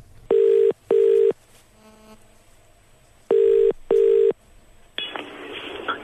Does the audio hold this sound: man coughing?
no